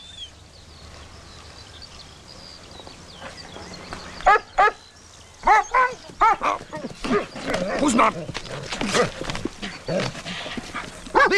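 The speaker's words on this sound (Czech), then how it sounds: "Držte si toho psa! Teď nás ožerie!" An agitated dog barks repeatedly in short, loud bursts in an old film scene, mixed with people shouting over it.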